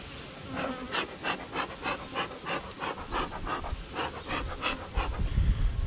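Honeybees hum steadily at an open backyard hive, a close, dense buzz that swells and fades in regular pulses with no talking.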